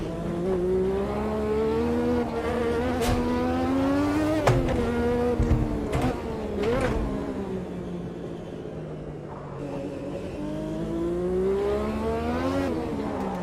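A race car in Automobilista 2 at the Adelaide street circuit holds a loud, steady engine drone that rises and falls with throttle, with brief sharp bangs and shifts, close and continuous.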